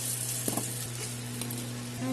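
Chicken fries in hot oil with whole cumin, garam masala and dried red chillies for a Bengali curry, a continuous close sizzle with brief stirring knocks and a faint hum underneath.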